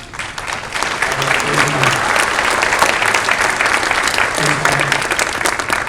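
Sustained, even applause from a crowd at a school board meeting greets a standing student's family, with faint voices murmuring beneath the clapping throughout.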